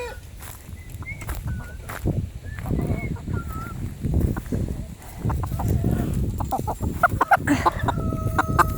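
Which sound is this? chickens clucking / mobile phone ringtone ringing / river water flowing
chickens clucking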